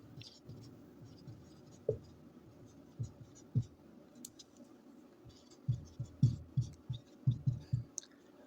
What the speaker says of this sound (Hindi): हम लोग क्या लिखेंगे, डायरेक्ट नीचे लिखेंगे